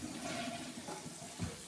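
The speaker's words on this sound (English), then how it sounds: "and then I'm gonna flush the toilet" A household toilet being flushed in a home with septic system problems, a steady rushing water wash under faint background noise, with no talking.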